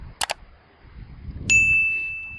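A Tesla Model 3 trunk opening: two quick latch clicks, then a swelling mechanical whir joined by a steady, high ringing tone as the lid lifts, fairly close.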